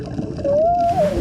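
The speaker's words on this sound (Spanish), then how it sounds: "Mateo canta en coro con las ballenas." Whale song underwater in the sea off Gorgona: a single rising, sustained moan that glides up, holds and then bends down, clear over a low murky underwater rumble.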